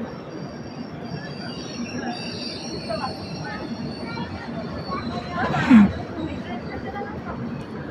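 Inside a 3rd AC coach of the East Coast Express, train no. 18045, wheels squeal in a brief sharp whine over a steady running rumble, with muffled voices around.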